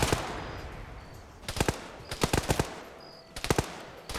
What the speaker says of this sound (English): Holton's taking multiple shots here, a few more even.